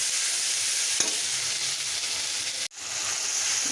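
Onions frying in a pan after fish, a loud steady sizzle close by with a few stirring scrapes and one brief break near the end, no voices.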